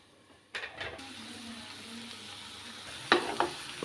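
Cauliflower stalks and potatoes cook on a low flame, a soft steady sizzle beneath a couple of stirring scrapes and clatters, quiet and close with a sharper knock near the end.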